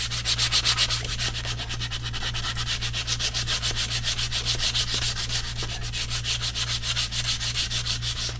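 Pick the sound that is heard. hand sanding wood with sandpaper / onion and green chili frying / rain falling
hand sanding wood with sandpaper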